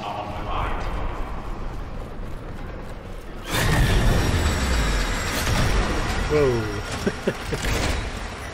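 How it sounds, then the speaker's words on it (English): A transdimensional train in the video game Warframe pulls into a station, its rumbling rush swelling suddenly and holding loud beneath an ambient game backdrop, with a brief rising mechanical whine near the end. "The next train is arriving."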